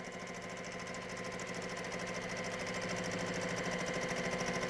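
A sewing machine runs steadily while quilting a quilt back and forth, its mechanical motor hum and rapid needle rhythm continuous and fairly loud, building slightly over the span without pause.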